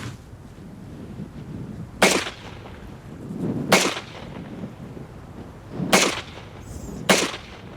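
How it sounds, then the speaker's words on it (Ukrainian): Four sharp AK-74 rifle shots ring out at uneven intervals during zeroing, each a crisp crack standing above a quiet outdoor background. "Чотири постріли зробили."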